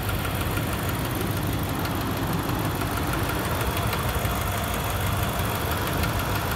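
A 2011 Ram 2500 Heavy Duty 4x4 truck engine idles steadily and smoothly, a continuous close rumble with no talk over it.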